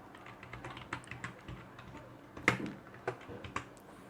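Computer keyboard typing as C++ code is entered, a quick string of close key clicks at an uneven pace with a louder cluster of strokes midway, over light room noise and no talking.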